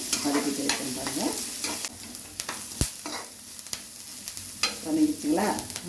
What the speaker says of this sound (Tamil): வெங்காயம் நல்லா கோல்டன் கலரில் வதங்கிடுச்சுங்க